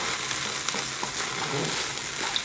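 Button mushrooms sizzle in a hot pan while being stirred, making a dense, even crackle close to the mic. Soft scraping from the utensil breaks in now and then, with no voices.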